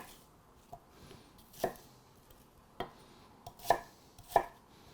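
A knife chops through red onion into bite-sized chunks on a board, with several sharp, separate thuds at irregular intervals. The cuts are close and fairly faint, with no one speaking.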